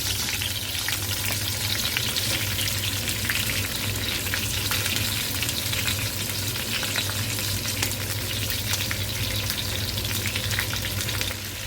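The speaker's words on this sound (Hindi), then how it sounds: "बैंगन और मिर्च को दोनों तरफ अच्छे से पका लेना है।" Eggplant and green chilies shallow-frying in oil in a pan, a steady close crackling sizzle that runs without a break from start to finish, alone with no talk.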